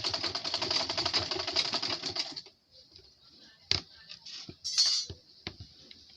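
A sewing machine stitches a crossbody chest bag, running in a loud, rapid, even burst for about two seconds before stopping, followed by quieter scattered clicks and handling noises.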